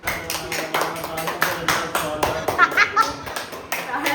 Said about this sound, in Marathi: सगळ्यांनी टाळ्या वाजवायच्या, जोरात क्लॅप करायचं